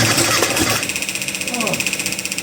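A small engine fitted with a brand-new carburetor sputters and catches briefly, giving an uneven, pulsing run with a few rough bursts before it fades, heard up close.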